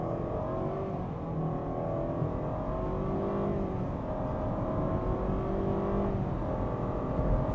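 A 2024 Mitsubishi Outlander with a naturally aspirated engine accelerates hard in a 0–100 test, its engine note rising steadily through several gear changes with brief dips between shifts, heard from inside the cabin and fairly quiet overall.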